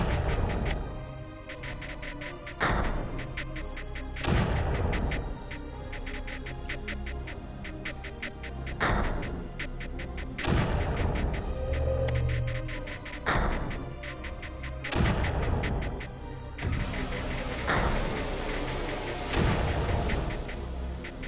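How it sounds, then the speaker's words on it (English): Mortars in the strategy game Creeper World fire repeatedly, sharp thumps about every two seconds over a low, steady background, with no talking. "You'll notice the one mortar here is doing a pretty darn good job of keeping everything back."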